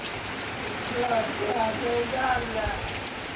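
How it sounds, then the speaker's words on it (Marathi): Heavy monsoon rain pours down in a village at rice-planting time, a thick, continuous patter on surfaces, with faint voices or tones rising briefly above it. "बघा पाऊस किती पडतोय, फुल पाऊस आहे गावाला"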